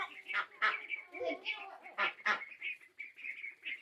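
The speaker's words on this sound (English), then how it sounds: "And look at the ducks over there." Farm ducks and other fowl call and honk near an orchard, a close, busy series of overlapping quacks and honks with short pauses between bursts.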